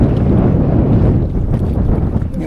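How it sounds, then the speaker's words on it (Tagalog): Strong wind roars and buffets the microphone aboard a small fishing boat out on Manila Bay, a loud, steady broadband rush with gusty swells throughout and no speech. "Grabe lakas ng hangin."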